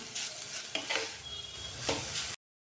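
Avarakkai poriyal with grated coconut gets stirred in a pan, soft sizzling broken by a few scraping spatula strokes, close and fairly quiet before cutting off abruptly.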